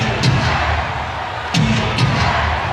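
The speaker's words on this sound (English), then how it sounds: "Crowd picking up the intensity." Arena crowd noise at a 1993 NBA playoff game between the Phoenix Suns and Los Angeles Lakers, a steady broad roar from many fans rising in intensity, with a few sharp thuds cutting through the din.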